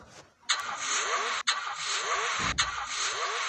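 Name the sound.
car engine revving in a racing video game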